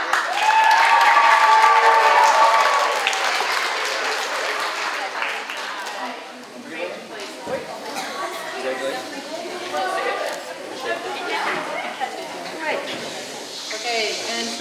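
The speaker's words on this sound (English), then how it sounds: "let's give Ms. Schaefer's class another round of applause" Audience applause for a class at a school DARE graduation ceremony, loud and dense for about three seconds, then tapering into scattered clapping and crowd chatter with voices talking through the rest.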